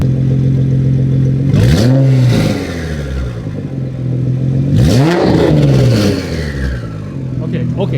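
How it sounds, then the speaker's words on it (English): A Nissan GTR R35 engine revs hard twice, each burst rising and falling in pitch over a loud idle, with voices talking nearby. "You want to rev it once? What? Just rev it once."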